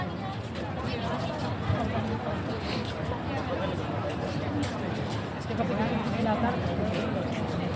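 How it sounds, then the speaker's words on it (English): A dense crowd chatters on the streets of Westminster in London, a steady babble of many overlapping voices with footsteps and street bustle, loud and continuous throughout. "The crowds, guys, are just getting insane."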